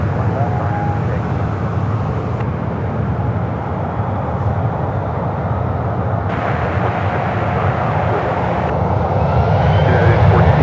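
An airliner powering up for takeoff on runway 1 left at San Francisco airport gives a loud, continuous engine roar that swells slightly toward the end, with faint voices mixed in.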